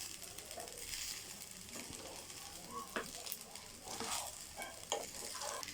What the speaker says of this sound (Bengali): দিয়ে এখন সব কিছু নাড়াচাড়া করা হচ্ছে।